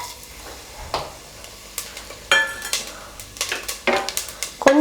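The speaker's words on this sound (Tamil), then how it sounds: "கொஞ்ச நேரம் இதை பொரிய விடலாம்." Whole spices (cinnamon, fennel, cloves, star anise, cardamom) frying in sesame oil in a pan, a soft sizzle broken by sharp clinks and scrapes of a utensil against the pan, irregular and close.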